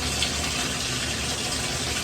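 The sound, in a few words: water running while rinsing dyed hair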